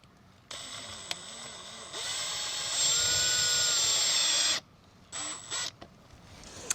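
A cordless drill drives self-tapping screws through mesh into a soffit vent, whirring in short bursts, then running steadily at a high pitch for a couple of seconds before stopping, followed by a few brief quick pulses.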